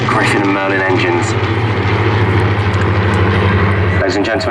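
Piston-engined Hurricane and Spitfire warbirds with Griffon and Merlin engines of the Battle of Britain Memorial Flight make a loud, sustained droning pass at an airshow display, steady engine roar filling the whole stretch with crowd or commentary noise beneath.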